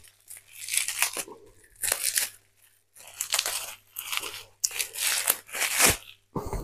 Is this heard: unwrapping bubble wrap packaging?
yes